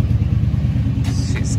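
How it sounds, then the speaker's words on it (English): A Lexus LS400 engine runs at a steady low rumble after being started on starter fluid, idling evenly with a brief higher hiss near the end. "let's go ahead and see if she starts up"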